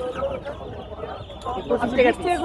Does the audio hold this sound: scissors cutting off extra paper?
no